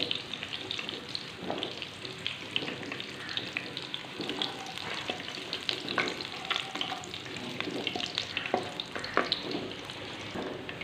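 Oil and ingredients frying in a pan for a desi potato and egg curry, a continuous crackling sizzle with scattered stirring clicks, fairly quiet and close, no talking.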